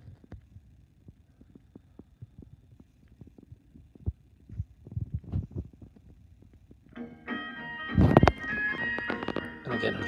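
A Ferranti RP1106 record changer runs through its automatic drop cycle: faint mechanical clicks and thumps build into louder clattering near the end, with a sharp knock as the next record falls and a louder rush of sound afterward.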